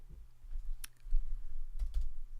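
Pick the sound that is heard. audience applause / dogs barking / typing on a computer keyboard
typing on a computer keyboard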